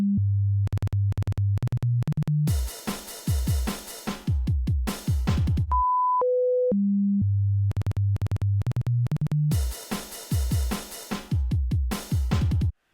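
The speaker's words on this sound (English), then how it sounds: "here's how the audio sample and sine wave playback work" Sine wave test tones from a PCM5102 I2S DAC module, heard as two short steady pure tones stepping from higher to lower pitch, set between loud rhythmic music sample playback with heavy bass and bright percussion.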